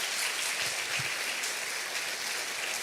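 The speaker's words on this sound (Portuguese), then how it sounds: "Pode aplaudir o Senhor em nome de Jesus" A church congregation in a Portuguese-language anniversary service claps for the Lord in a steady, even wash of applause that fills the room from start to finish.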